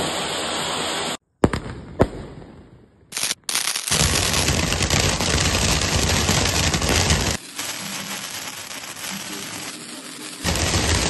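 A Bada Peacock firecracker fountain goes off close by, loud dense crackling and popping bursts that run almost continuously after a few sharp opening bangs.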